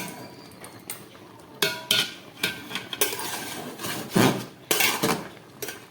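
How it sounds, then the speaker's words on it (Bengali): A metal pot and utensils clatter and clink in a series of sharp, uneven knocks while water is strained off boiled taro leaves, close and clear with no talking. "এবার আমি এটাকে ভালো করে জলটা ছেঁকে নেব।"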